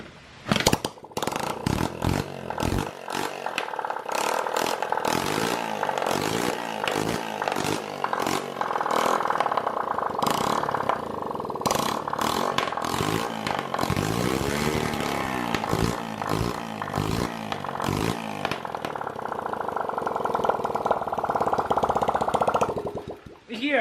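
A dirt bike engine revs hard and continuously for about 20 seconds, loud and close, with rapid throttle blips and sustained high-rpm stretches, ending in a sudden cutoff.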